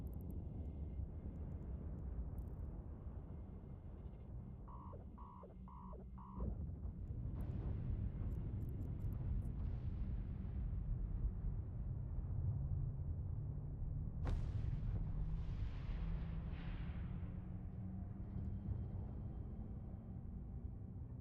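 Missile launches in the space game EVE Online, a deep rumbling roar with bursts of whooshing launches swelling and fading over a steady low engine drone, no talking.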